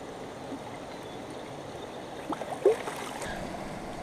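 Water sloshing and washing gravel in a gold pan, a soft continuous trickling wash with a couple of brief louder splashes partway through.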